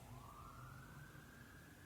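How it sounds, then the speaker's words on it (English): A siren wails faintly in the distance at the Rolling Loud festival, its tone slowly rising, under a steady low background rumble. "The sirens."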